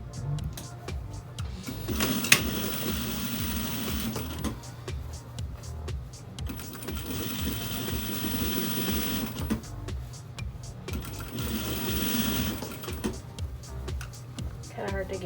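A sewing machine stitches a seam on a reusable fabric face mask in bursts of steady mechanical whirring separated by short pauses, close and fairly loud.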